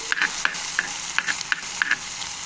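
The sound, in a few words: stirring frying drumstick flowers aside in pan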